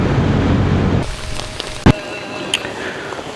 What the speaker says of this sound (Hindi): बारिश तेज़ हो गया तो मैंने सोचा है